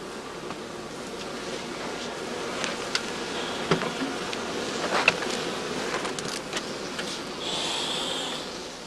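Honey bees buzzing around heather-season skep hives in an apiary, a faint steady drone with scattered brief clicks and taps, and a brighter passing buzz near the end, no voices.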